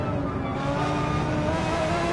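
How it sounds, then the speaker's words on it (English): Ford GT LM Spec 2 race car engine in a racing video game, a steady loud droning roar with layered engine harmonics throughout, continuous and close, no talk. "Is really catching up that Ford GT LM race car Spec 2 ahead of him, going through the hairpin there."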